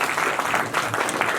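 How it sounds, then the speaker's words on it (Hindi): Audience clapping at a book launch event, a steady dense wash of applause filling the whole short stretch at moderate loudness. "जरा जोरदार ताली हो जाए इसकी बात।"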